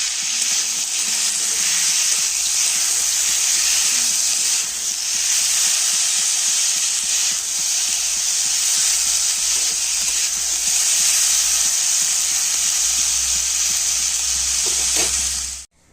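Vegetable curry with stalks cooking in a pan, a loud continuous sizzle and hiss with faint scraping of stirring underneath, steady throughout.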